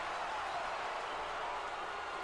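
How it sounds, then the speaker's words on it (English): A backing track of arena crowd noise plays for a WWE 2K20 wrestling match, a steady, continuous roar of many voices at moderate-to-low level without distinct cheers or breaks. "we lost the audio and had to put in a backing track for crowd noise"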